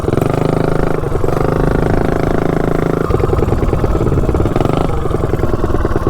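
A Coleman mini bike with a Predator 212 engine and stock cylinder head runs flat out down a street, its small single-cylinder engine droning loud and close with a rough, buzzing pulse and shifting pitch.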